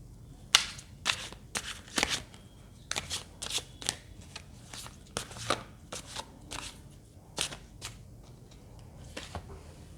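Tarot cards being shuffled in a series of crisp riffling bursts and slaps, close and fairly loud against a quiet background, with no talking.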